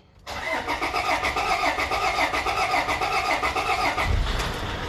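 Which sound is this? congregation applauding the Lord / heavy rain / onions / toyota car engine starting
toyota car engine starting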